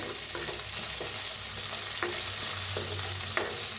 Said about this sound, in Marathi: एक चमचा काजू घेतले ते पाच सहा तर हलवून भाजून घेऊया